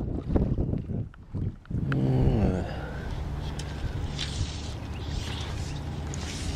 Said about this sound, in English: So how's the wind noise? It's blowing like mad.